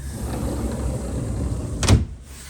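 A patio door at a drafty old condo is slid or pulled shut with a single short thud, heard close and fairly loud over a steady background hum of wind or airflow.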